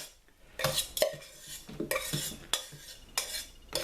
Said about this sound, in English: So now we're just going to stir this in. Get that beef in there with that rice.